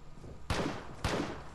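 Two sharp, loud gunshot blasts about half a second apart, enemy fire in the video game Vigor, each a broadband crack with a short decaying tail over low background noise.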